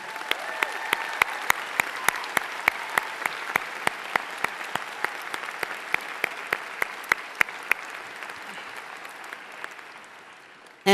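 A graduation audience gives school staff a round of applause: dense, steady clapping with sharp individual claps standing out, sustained for several seconds before thinning near the end.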